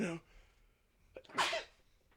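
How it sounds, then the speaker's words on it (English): A person sneezes once, loud and close, after a brief sharp sound and a quiet pause. "I'm gonna sneeze"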